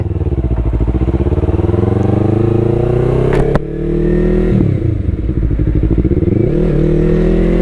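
Yamaha R3 motorcycle with an aftermarket exhaust, ridden through a village, giving a loud, steady, soft-toned engine drone that briefly dips between gears around the middle and then rises and falls with the throttle.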